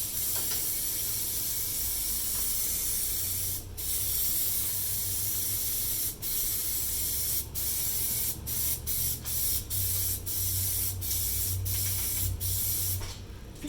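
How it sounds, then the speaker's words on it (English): Rubberized coating sprayed from an aerosol can onto a Jeep body, a steady close hiss with a string of short bursts and brief pauses between passes, no talking. "It definitely doesn't spray like normal paint. I mean, it's a rubberized coating, so obviously it's going to come out thick"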